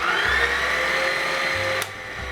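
An electric mixer whirs steadily through bread dough made with marzipan and egg, giving a close, even motor drone. The whine shifts briefly near the end as the load changes.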